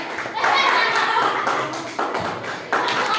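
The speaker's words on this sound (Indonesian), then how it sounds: "Berikan tepuk tangan yang meriah bersamanya." A classroom of children claps together: a steady patter of many hands that swells, dips and restarts in bursts, with a teacher and kids talking over and around it.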